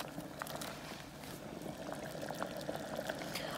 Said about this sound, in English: let this boil in the rasam for around another 5 minutes